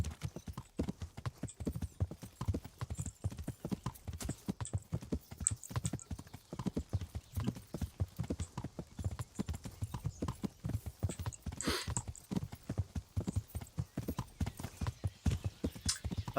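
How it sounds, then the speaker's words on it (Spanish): A horse trots on in the medieval role-playing game Kingdom Come: Deliverance, its hooves clip-clopping in a quick, steady, even rhythm that runs the whole way through at moderate volume with no talking. "Este caballo, vamos."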